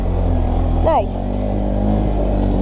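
A four-wheel-drive ATV, an Arctic Cat 250 or Honda 350, pulls up a hill on a powerline trail, its engine droning loud and steady at close range while a voice briefly speaks over it.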